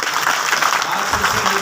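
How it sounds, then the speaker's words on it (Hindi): An audience claps steadily and densely at a Hindi poetry recital, a kavi sammelan, with the applause continuous and fairly loud throughout. "जोरदार ताली बजाएं"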